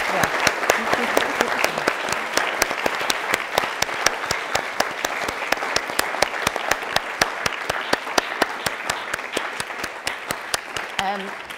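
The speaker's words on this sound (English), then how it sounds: "just a huge round of applause for our amazing speakers" A live audience gives a sustained round of applause for the speakers at a climate organising talk, dense steady clapping filling the room for about eleven seconds, with a faint voice near the end.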